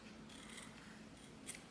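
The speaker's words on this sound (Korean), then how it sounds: "이런 경우에는 그냥 가위로 잘라주세요" Scissors trimming excess lining fabric while assembling a small handmade mini bag, with a couple of quick, faint snips against a quiet room background and no talking.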